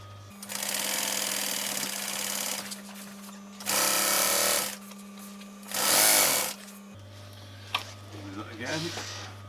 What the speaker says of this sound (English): I can just sew to that point now